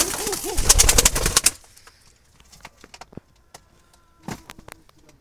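Jalali pigeons coo loudly and closely in a quick burst of throaty calls, followed by quieter scattered coos, clicks and rustling.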